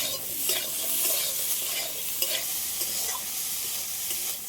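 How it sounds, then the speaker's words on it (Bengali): Shrimp with eggplant and potato frying together in a pan, a steady close sizzle with scattered stirring scrapes and clinks throughout, no voices. "সবগুলো একসাথে আরেকটু ভালো করে ভেজে নেব"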